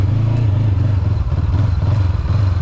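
Motorcycle engine idling at low speed during a slow stopped U-turn, rider with a foot down; a steady close rumble with light clatter and scraping, no talk.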